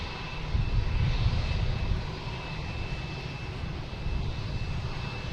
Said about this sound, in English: That's a Gulfstream taking off.